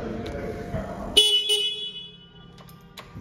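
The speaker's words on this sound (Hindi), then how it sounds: "सिंगल हॉर्न है इसमें।" A 2023 Honda CB 300R motorcycle sounds its single horn in one short, sharp toot, with a quick second blip after it, following some low background noise.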